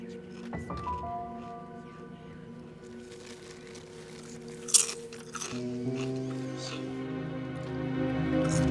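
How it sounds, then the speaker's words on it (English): Someone eats chips aboard an airplane waiting to take off, the crunching and chewing coming in close bursts over a steady cabin engine hum that grows louder toward the end. "With how loud you're crunching, I'm pretty sure the pilot can hear you."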